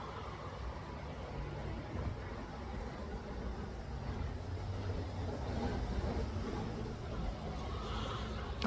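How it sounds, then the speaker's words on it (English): Steady traffic passing over a bridge beside a river, a continuous low rumble of vehicles with no clear individual pass-bys, moderately distant and uninterrupted by talk. "we got traffic. We got more vehicles passing by"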